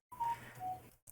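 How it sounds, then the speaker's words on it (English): A default phone ringtone plays close by: two steady electronic tones with a brief gap between them, then a short burst at the very end, with no talking over it. "Nice default ringtone."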